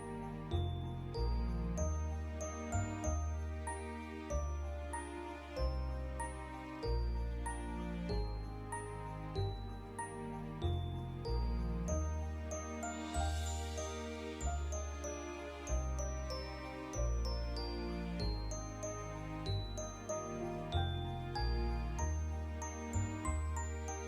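Small bells on a holiday wreath jingle and tinkle continuously, bright ringing tones overlapping in a steady, shimmering cascade with no voices.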